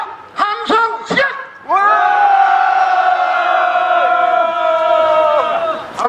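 At a candlelight protest rally in Incheon, a few short shouts lead into a loud, sustained roar from the crowd lasting several seconds before fading at the end.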